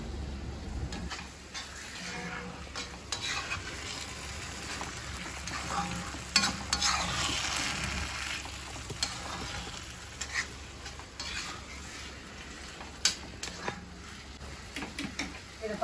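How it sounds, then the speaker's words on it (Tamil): Green chilies and chili powder frying in a pan while being stirred, giving a steady close sizzle with scraping stir strokes throughout, with some intermittent talk in the background. "இந்த பச்சை மிளகா போட்டிருக்கோம் இல்லையா, அதுவும் வதங்கியிருக்கும், இந்த மிளகாத்தூளும் வதங்கும்"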